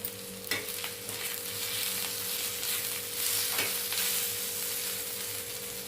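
Tomato frying with onions in a pan, a steady close sizzle with light stirring and a few sharp clicks of a spoon against the pan, with no talking.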